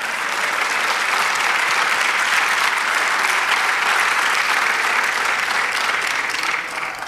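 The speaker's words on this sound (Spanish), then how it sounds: "Dale aplauso al Señor." A church congregation claps loudly and continuously for several seconds, a dense wash of applause that tapers slightly at the end.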